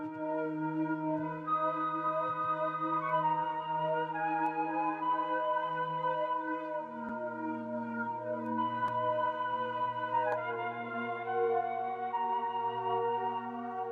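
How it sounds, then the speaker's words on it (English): An Analog Lab ambient flute preset layered over a dark synth pad, with sustained, breathy melodic notes drifting above a low droning bed at a soft, steady level and no talking. "Then I opened up another Analog Lab and I got this ambient flute preset"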